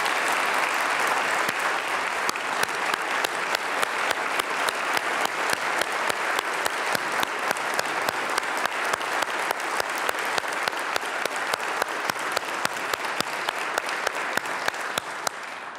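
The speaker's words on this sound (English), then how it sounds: "Please give the governor a round of applause." A large crowd at a North Carolina governor's swearing-in ceremony gives the governor sustained, loud, even applause that fills the whole stretch without a break.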